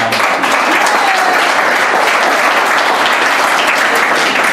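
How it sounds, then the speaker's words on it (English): Dense, steady applause from a crowd at a political rally in Anniston, Alabama, loud and continuous throughout with no pauses, a broad wash of many hands clapping at once. "We need to applaud on that, Alabama."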